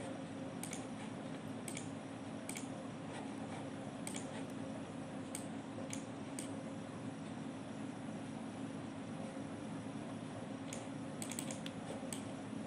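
Typing a file name on a computer keyboard while saving a structure file in crystal-modelling software, with soft, scattered key clicks over a steady hum of background noise and no speech.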